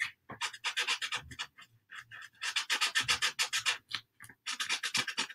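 A white Posca paint pen writes letters on a baseball tiered tray, close scratchy rubbing strokes coming in short bursts with brief pauses between them.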